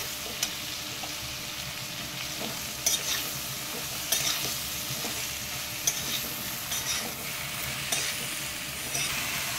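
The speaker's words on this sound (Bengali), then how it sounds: "এবার হালকা একটু নাড়াচাড়া করে নিচ্ছি" A spoon stirs turmeric into a ridge gourd mixture in a hot pan, with a soft steady sizzle of frying and occasional sharp scrapes and clicks against the pan.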